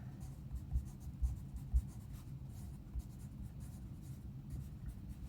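Pen or pencil writing by hand on paper during a home woodshop lesson on bevel gauges and dividers, quiet scratchy strokes with a few firmer taps, close and alone with no talk.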